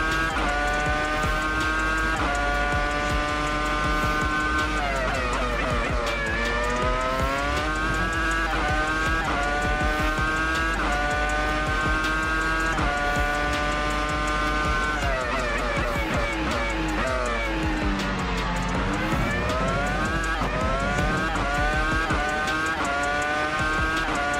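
A Williams FW26 Formula One car in a racing game screams through a high-revving engine note that rises and falls with gear changes, with tire squeal as it drifts, loud and continuous throughout.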